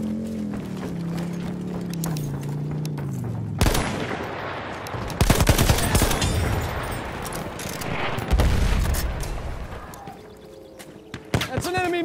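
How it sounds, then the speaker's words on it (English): Battlefield 1 machine gun fire in heavy bursts amid battle noise and explosions, loud and dense, with shouting voices heard over the shooting. "Machine gun!"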